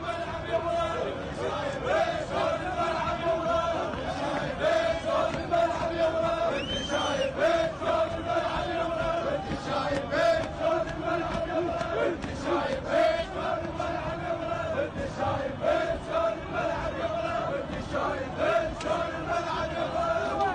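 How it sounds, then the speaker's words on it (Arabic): A large crowd in Iraq chants slogans in unison, loud rhythmic massed voices rising and falling over a continuous roar, with shouting close in the mix. "دعونا الآن نشاهد جانبا من هتافات أمن الحشد التي تداولها العراقيون في هذا المقطع"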